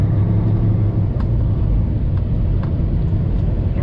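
Inside the cab of a semi truck pulling away on a Saskatchewan road, a deep, steady engine rumble and road drone fill the space with continuous low-frequency noise and no talking.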